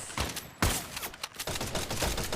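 Rapid bursts of gunfire in a Free Fire battle royale match, sounding as quick clustered shots with a sharp, loud crack partway through, fairly faint overall and with no voice.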